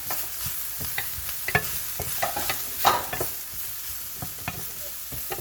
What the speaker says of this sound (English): And then I continue to mix it very well, as you see.